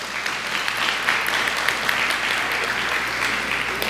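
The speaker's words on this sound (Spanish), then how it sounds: "Fuerte aplauso para ellos." Steady, even applause from a church congregation for its small group leaders, a continuous wash of clapping throughout with no speech standing out.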